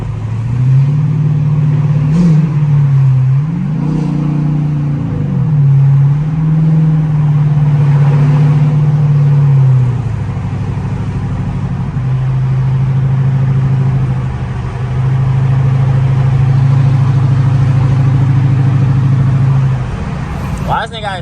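A 2013 Chrysler 300C with a loud exhaust drones steadily at freeway speed, its engine note rising and falling with throttle changes, close and loud with road noise underneath.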